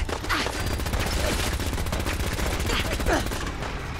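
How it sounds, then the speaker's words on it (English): Enemy gunfire in the Fallout 4 game rattles on without pause, a dense, loud stream of rapid shots with scattered sharper cracks, sustained for the whole stretch. "Is it shooting me through the wall?"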